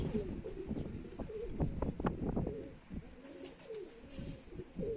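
Domestic racing pigeons, mostly black with a few white tail feathers, coo softly in a loft, with low, throaty murmurs repeating over faint background noise.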